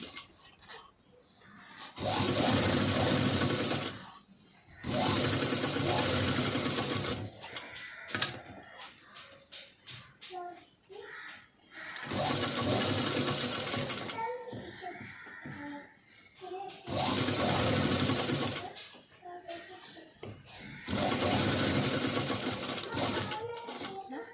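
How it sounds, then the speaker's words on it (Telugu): An electric sewing machine runs piping stitches on a padded blouse in five separate bursts of steady whirring, each a few seconds long, with quieter handling and shuffling of fabric in the pauses between runs. "చూపిస్తున్న విధంగా నీట్గా అయితే పైపింగ్ మీద స్టిచ్ అనేది వేసుకుని రావాలి."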